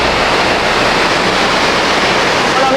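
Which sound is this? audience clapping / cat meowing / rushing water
rushing water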